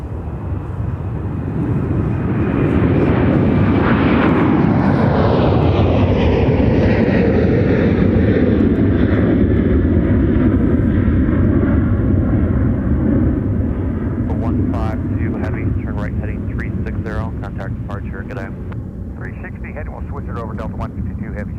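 Airliner taking off at MSP airport on a windy day: a loud, close jet roar that swells and holds, with engine pitch sweeping downward as it climbs past, then a gradual fade while people talk over it.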